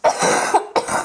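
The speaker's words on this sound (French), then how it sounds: "Je suis désolée, je risque de tousser," Two close, harsh coughs in quick succession, loud and abrupt, with a short gap between them.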